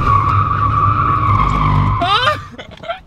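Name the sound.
car tires skidding and burning on hot ground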